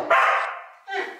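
A dog gives two sharp barks close by, the first longer and the second shorter after a brief pause, with no talk.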